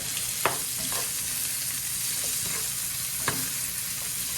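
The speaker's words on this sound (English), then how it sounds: "we're just gonna fry these up just till they're partially cooked" Pork chops frying in a pan on an old stove, giving off a steady, close sizzle with occasional sharp pops and scrapes as they cook.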